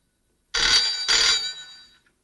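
A telephone rings in a home, sounding two loud, close, bright electronic ring bursts back to back. The second burst tails off into a short fading decay, with no talking over it.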